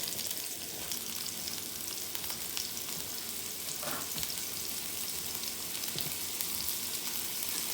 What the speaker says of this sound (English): we are going to drop our garlic into the pan